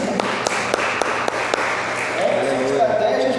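Church congregation clapping in a steady rhythmic beat during a service, evenly spaced sharp claps fairly close, giving way to voices and a murmur toward the end.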